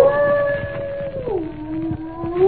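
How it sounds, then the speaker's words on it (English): A dog howls in a long, bad-tempered wail on a stormy night during the season's first thunderstorm, the pitch sagging and rising again; the howl is steady, fairly loud and alone, with no voices. "Listen to that dog. He's in an ugly temper."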